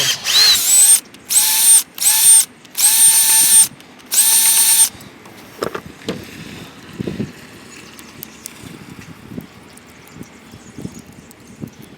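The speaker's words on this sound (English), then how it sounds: "I brought a masonry bit up. I can drill that old one out." A power drill with a masonry bit whines loudly in five separate bursts of a few seconds each, drilling out an old insert, then gives way to quieter clattering and handling noises.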